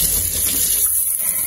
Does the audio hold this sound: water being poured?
yes